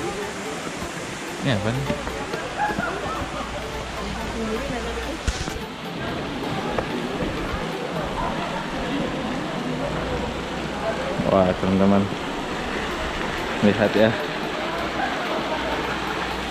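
A waterfall at a swimming pool pours in a constant broadband rush of falling water, with people talking over it nearby.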